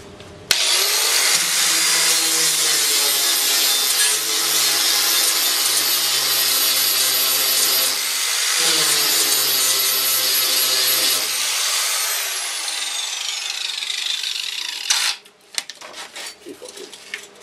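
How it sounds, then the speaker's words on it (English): An angle grinder runs steadily for about eleven seconds on steel, taking a weld tack off a Dodge Phoenix project car, loud and close. It winds down and is followed by a few scattered clanks. "grind that off, grind that tack off, and re-weld that one"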